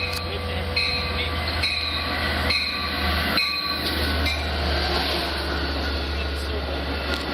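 A Long Island Rail Road train at Westhampton station squeals its wheels in sustained high metallic tones, with a low rumble and clanks underneath as voices speak nearby.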